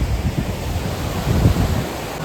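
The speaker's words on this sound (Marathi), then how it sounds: "नदीचा आवाज येतोय, अशी नदी वाहते।" A river in Pahalgam rushes past in a steady, loud, broadband roar of flowing water, with some wind buffeting the microphone.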